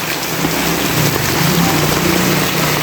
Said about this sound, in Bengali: অন্ধকার হইয়া বৃষ্টি নামতাস বিশাল বৃষ্টি